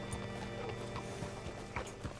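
A horse's hooves in the video game Red Dead Redemption 2 clip-clop in a steady rhythm, moderately loud over a dense game background with no talk.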